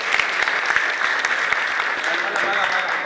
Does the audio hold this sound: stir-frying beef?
no